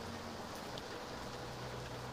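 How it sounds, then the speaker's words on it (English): Rain falls outdoors on a boat dock during a plein air painting session, a faint, even patter of drops with a low hum underneath and no voices. "I'm getting rained on."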